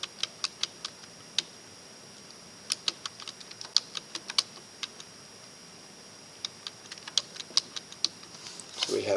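Light, crisp clicks of numbers being keyed in on a TI-Nspire calculator come in irregular bursts of single taps, close and quiet, with a faint hum underneath.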